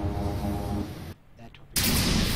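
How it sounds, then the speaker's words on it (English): Loud roaring, rushing blast of an incoming torpedo in the space strategy game Sid Meier's Starships. It cuts to a brief near-silence for about half a second, then surges back at full strength. "Torpedo incoming. Incoming torpedo."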